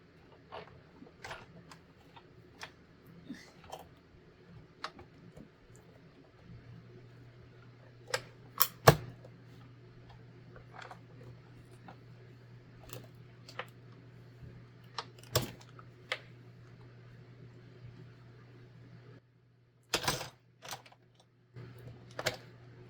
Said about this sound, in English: let's go ahead and cut the Holly Jolly and see if this is a 5.